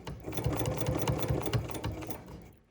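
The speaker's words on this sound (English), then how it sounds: "And stitch on that previous stitching." A sewing machine stitches back over earlier stitching on a trick-or-treat bag, a close rhythmic clatter running steadily for a couple of seconds before stopping.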